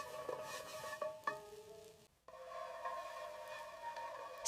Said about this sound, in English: Stir evenly, covering the pan with the butter.